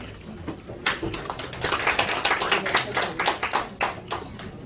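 An audience at a city mayor's first-year press briefing in Suwon claps together, a dense patter of many hands that rises and falls for several seconds.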